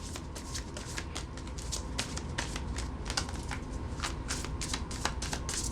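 Deck of playing cards being shuffled nearby, a steady stream of riffling flutters and snaps over a continuous background hum, with no voices.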